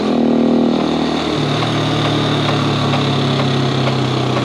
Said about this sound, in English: That little bit of chink, chink, chink you hear, it's because I've got to do some better fitting on that chain guard